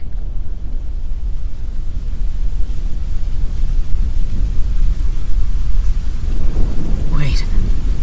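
Outdoor thunderstorm with steady heavy rain hiss and a deep rolling thunder rumble that builds toward the end, loud and close.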